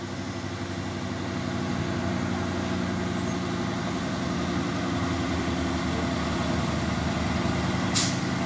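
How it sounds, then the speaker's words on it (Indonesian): A large container trailer truck idles with a steady, loud low rumble throughout, and a short sharp hiss of air brakes near the end. "truk trailer Puso super gede ini ya, membawa kontainer"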